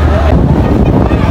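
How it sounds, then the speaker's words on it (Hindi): Strong wind buffets the microphone high on the top tier of a cricket stadium, a steady loud roar of gusts filling the whole moment with no clear break. "यहाँ पे हवा चल रही है इतनी तेज़ यहाँ पे"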